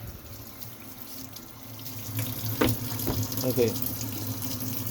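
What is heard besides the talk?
tap water running, washing pork belly in sink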